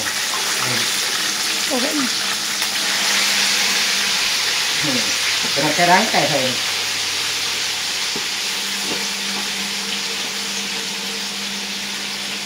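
Food frying in a hot pan of oil gives a steady broad sizzle and hiss throughout, with a voice speaking intermittently over it in the middle.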